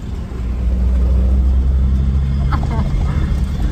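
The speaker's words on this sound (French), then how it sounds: "Eux, avec ces voitures-là, ils vont à fond de balle sur les pistes." Cars speed along dirt tracks in northern Cameroon, a steady, loud low engine rumble that holds throughout with faint voices mixed in.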